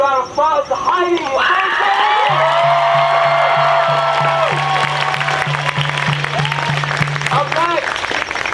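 Loud applause and cheering from a crowd at an outdoor climate strike rally, sustained for several seconds with whoops rising over the clapping and a steady hum underneath, fading out at the end.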